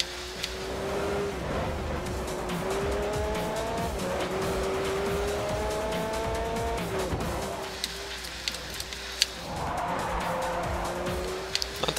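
A race car in the Forza Motorsport 4 video game cornering at Road America, its engine note climbing through repeated upshifts while tires squeal and skid steadily beneath, with a brief lift between corners before the revs rise again.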